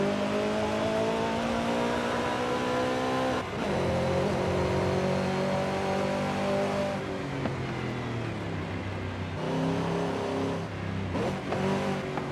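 A Mustang's 5.2 liter Voodoo V8 revs hard in Forza Horizon 5, its pitch climbing through the gears with brief dips at each shift, loud and close throughout.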